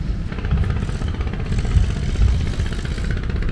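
Small boat off Cat Ba Island in Ha Long Bay, Vietnam, its engine putting out a steady rattling, chugging drone with a clattering texture, continuous and fairly close, no talk.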